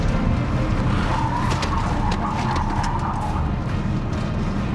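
A car swerving at 60 km/h on a test course, tires scrubbing and skidding in a loud continuous rush over engine noise, with no talk.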